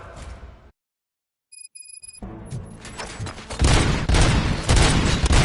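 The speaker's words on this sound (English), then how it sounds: "Gunshots? What's going on?" Gunfire breaks out during a staged RoboCop scene: after a silent gap and a few metallic pings, dense loud bursts of shots and booms build up and fill the last two seconds, close and continuous.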